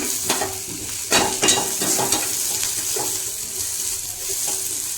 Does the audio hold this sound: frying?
yes